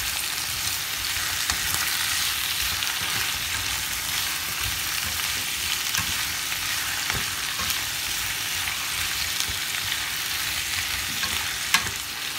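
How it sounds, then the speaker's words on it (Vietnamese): Chayote and garlic stir-fried in a pan give a steady, close sizzle that runs without a break, with scraping stirs and occasional clinks from the utensil and no talking. "Su su rất là nhanh chín nên là khi các bạn xào thì các bạn lưu ý các bạn chỉ xào trong vòng 5 phút"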